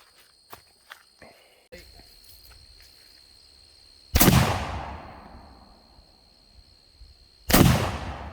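Two loud, close shotgun blasts from an antique Belgian 12 gauge being patterned, each a sharp crack with a long fading tail, a few seconds apart, after quieter handling clicks and footsteps.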